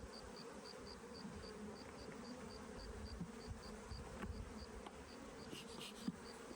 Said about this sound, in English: Smoke the bees a little bit more